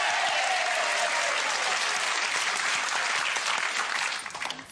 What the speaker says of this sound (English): Once more, let's have a massive round of applause for Sherrie Hewson.